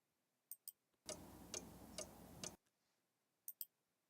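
A clock ticks in a short sound-effect snippet, steady evenly spaced ticks over a brief hiss-filled stretch, with a few isolated clicks before and after, quiet and close.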